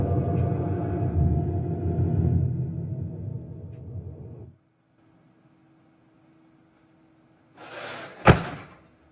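A door slams in the Bright Falls, Washington game world: a sharp, loud single bang lands near the end. It follows a rushing hum that cuts off abruptly and a stretch of near silence.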